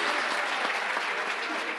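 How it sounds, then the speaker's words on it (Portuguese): Steady applause from a women's audience at a Christian couples' gathering on marriage, a dense even clapping that fills the whole short moment without pause. "As mulheres aplaudiram aí."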